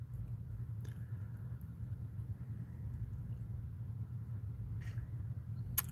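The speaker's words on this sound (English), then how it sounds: "I hear a truck." Distant truck rumbling outside, a low, continuous droning rumble that stays faint and steady for several seconds, with a few light clicks and no talking.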